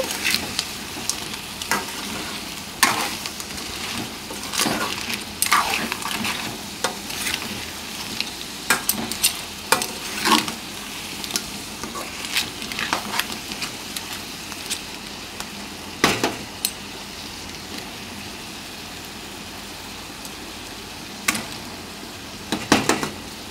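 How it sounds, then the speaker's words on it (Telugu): Crabs stirred with chili powder in a frying pan for an Andhra-style crab curry: a continuous sizzle with frequent irregular scraping and clanking strokes of a spoon against the pan, close and fairly loud, with no talk. "ఇప్పుడు కారం మొత్తం కూడా ఈ పీతలకు పట్టే విధంగా ఈ విధంగా కలుపుకోవాలి."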